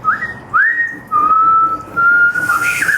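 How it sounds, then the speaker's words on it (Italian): A person whistling while breathing in, producing a series of clear, loud sustained tones, some rising into a held pitch and others steady, separated by brief breathy gaps. "il fischio al contrario"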